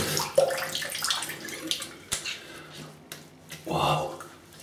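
Water splashes and runs as a face is rinsed after shaving with a Gillette Heritage razor, producing soft, close, intermittent splashing and trickling at a moderate level.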